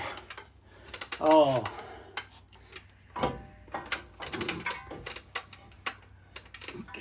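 Hand ratchet tightening bolts on the front end of a 2005 Chevrolet Trailblazer 4x4 during a rebuild, heard as irregular bursts of close metallic clicking with brief pauses and a few short clanks, no talking.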